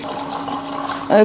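Water is poured into a rice cooker for mutton biryani in a brief, close trickle under a talking voice, ending in a louder splash of filling.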